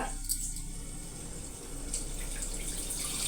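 Water is poured from a glass into a pot of egg curry, a soft, continuous, fairly faint splashing stream heard alone, with no talking.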